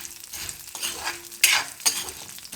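Whole urad dal is roasted in a pan, with a spatula scraping through it in a few distinct strokes over a soft background sizzle, close and clear with no talking.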